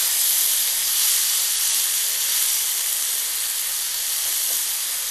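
Chopped tomatoes hit a hot frying pan for a mini pizza topping, producing a loud, continuous close-up sizzle with a bright, hissing texture that stays steady throughout.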